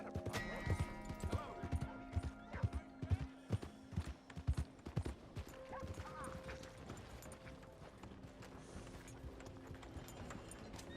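Rhythmic hoof clip-clops from a horse approaching in Red Dead Redemption 2, with a short whinny, then steady ambient game music and background sound; a voice speaks briefly.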